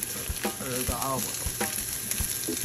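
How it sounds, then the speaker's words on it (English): Mushrooms sizzle in hot olive oil in a pan while being stirred, a close, continuous frying hiss broken by a few scraping knocks of the spoon against the pan. "we are going to add our mushrooms. And we are going to stir those around with the olive"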